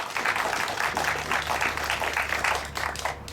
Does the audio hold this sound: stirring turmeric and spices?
no